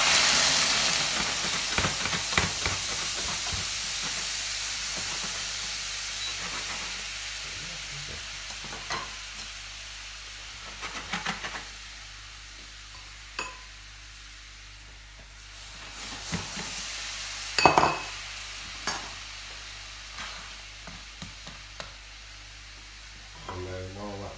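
Brandy poured into a pan of caramelising orange sauce for crêpes Suzette sizzles and hisses steadily, with scattered stirring clatters and a brief louder burst midway.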